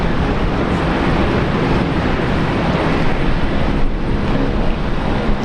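Airliner landing on runway 19 left at Brisbane Airport, a loud, steady, broadband roar of jet engines and airflow that holds close and constant throughout, with no voices.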